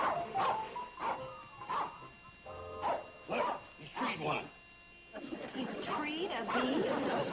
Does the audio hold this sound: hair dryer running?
no